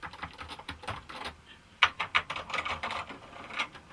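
Keys clatter on an MSX home computer keyboard in uneven bursts of quick clicks and taps, close and crisp, with brief pauses between runs of typing.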